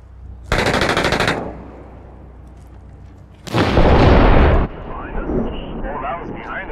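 A roadside bomb detonates during combat in the Six Days in Fallujah video game, a loud broadband blast arriving after an earlier burst of gunfire, then rumbling debris with voices faintly underneath.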